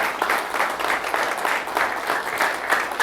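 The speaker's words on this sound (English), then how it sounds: "Just give them one quick round of applause real quick" An audience at a drywall and interior contractors' scholarship awards event gives the scholarship recipients a short, steady round of clapping, moderately loud and even throughout.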